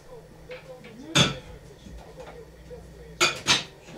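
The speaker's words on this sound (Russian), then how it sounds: "Не люблю, когда стоит посуда, мешается." Clattering dishes and clinking cutlery with a few sharp knocks, clustered near the start and end, as someone tidies up nearby.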